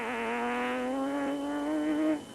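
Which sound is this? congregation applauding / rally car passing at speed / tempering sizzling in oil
rally car passing at speed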